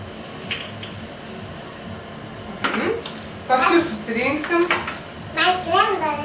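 Dry pasta is dropped into a cooking pot in a home kitchen, making several sharp clattering bursts close by, with people talking throughout.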